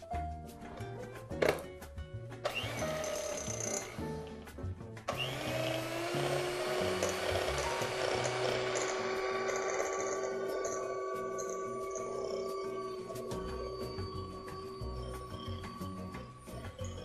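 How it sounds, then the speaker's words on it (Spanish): Hand blender whirring through cheese and butter, a steady motor drone that starts after a few clicks and keeps running, moderately close, with no speech over it. "aquí vamos a pasar con la batidora un poquito"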